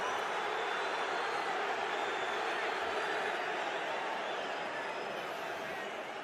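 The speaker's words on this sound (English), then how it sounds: "just listen to the noise in the crowd" A dense, steady roar fills a football stadium during a match as the crowd keeps up a continuous wash of noise, broad and sustained throughout.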